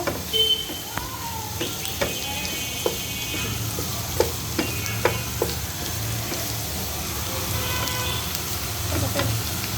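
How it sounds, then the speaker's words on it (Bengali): Green chili, onion and chopped garlic frying in mustard oil over medium-low heat, a soft continuous sizzle broken by scattered light scraping and stirring clicks, close by and with no talking. "তেল দিয়ে এর ভিতরে কাঁচামরিচ, পেঁয়াজ, রসুনের কুচি এইটা একটু ভেজে নিব।"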